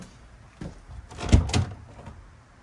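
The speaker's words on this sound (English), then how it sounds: "Let me open the other door." A door on the Pawddywagon being opened, giving a brief close creak and clunk of latch and hinge with a couple of quick bumps, near and moderately loud with no talking.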